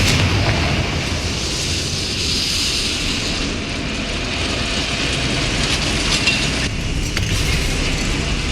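A Confringo fire spell bursts in Hogwarts Legacy amid steady, dense game noise that rumbles loudly throughout, with no voices.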